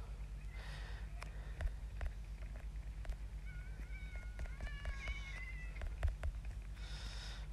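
Cats meow in a video game, giving several drawn-out, wavering cries over a quiet, steady background hum, with no talking.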